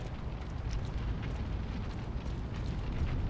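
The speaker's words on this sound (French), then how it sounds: "Est-ce que ça explose Explosion" An explosion in the first-person shooter Shadow Warrior, heard as a sustained, rumbling blast with crackling debris that stays loud and dense throughout, with no pause or decay.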